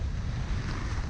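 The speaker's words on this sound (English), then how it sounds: "I think we have German waves here." Steady low rumbling wash of sea waves heard from a sailboat, with wind buffeting the microphone, continuous and close, no voices.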